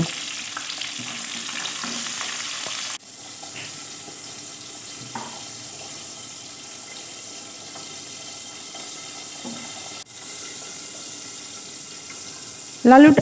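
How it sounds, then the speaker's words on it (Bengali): Potato pieces fry in a pan of hot oil with a dense, continuous sizzle, broken by a few stirring knocks and a louder scrape at the very end. "এবার আলুটা আমি লাল লাল করে ভেজে নেব।"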